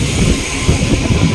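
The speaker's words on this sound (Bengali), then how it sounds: "এই যে ট্রেন ঢুকেছে।" A train pulling into a quiet, nearly empty railway station, heard as a loud, continuous rumbling roar of wheels and carriages filling the short moment without any voices.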